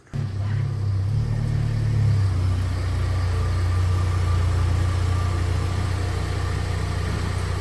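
A Ford Bronco's engine starts with a short burst and then idles in a loud, steady low rumble close by while the truck pulls in, with no talking.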